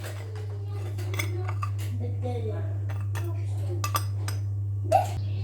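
A metal spoon stirs and scrapes a thickening pudding of milk, sugar, starch, flour and egg yolk in a cooking pot, with light clinks and scrapes over a steady low hum, and a voice talking now and then.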